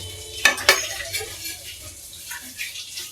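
Rohu fish pieces laid one by one into a hot pan give a sharp sizzling crackle with two bright bursts near the start, then a softer, steady frying hiss, close up and with no talking.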